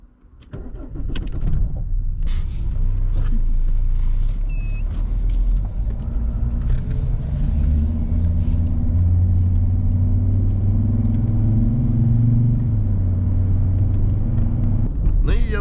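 A Mercedes W210 E270 CDI diesel car cranks and starts, then idles and pulls away with a steady, loud rumbling engine drone that rises and falls as it drives.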